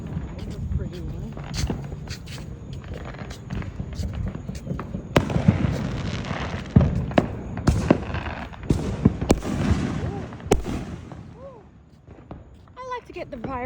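Fireworks at a 2025 show burst and crackle in irregular volleys, some sharp booms and rattling crackles, with people talking nearby between the explosions.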